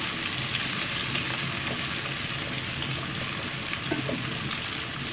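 Crushed cloves, peppercorns and small whole spices fry in a pan for a duck curry. A constant, close sizzling hiss is joined by light stirring taps toward the end.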